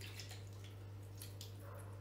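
Leftover marinade for lemon chicken poured from a container into a baking pan with potatoes, a soft steady liquid trickle with light splashes, close and quiet over a constant low hum.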